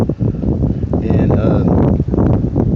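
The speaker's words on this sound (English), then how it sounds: "sorry, it's windy out here today" Wind blows outdoors straight into the microphone, gusting in loud low rumbling buffets under a man's speech, with a faint high ringing tone in the middle.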